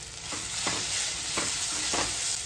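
Chili masala powder, a blend with cumin, fenugreek and garlic, fries in a pot for a mutton bone broth. A steady broadband sizzle runs throughout, broken by four soft, evenly spaced stirring scrapes, close and moderately loud.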